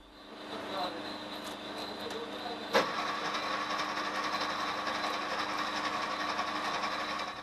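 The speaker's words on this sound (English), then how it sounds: "By their force, the pressing wheels are crushing and separating the insulation above the wire." BOBR cable stripping machine running steadily as its pressing wheels crush and split the insulation on a wire, a constant mechanical whir and drone with one sharp knock partway through.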